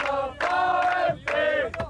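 VfB Stuttgart players and fans celebrate the German championship on the team bus from the Leverkusen stadium, a group of voices chanting in loud sustained shouts, two long bursts with a short gap.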